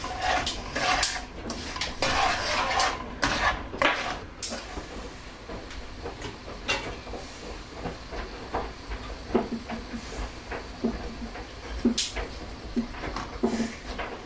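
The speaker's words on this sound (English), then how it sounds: "And all of the pears. And give that a good mix." Pears are tossed with sugar and butter in a mixing bowl, giving a steady, busy run of clattering, scraping and clinking that is densest at first, then thins to scattered taps, close up.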